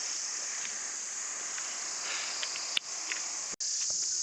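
Insects chirr on a mountain trail in India, a steady high-pitched trill with a few brief clicks and knocks.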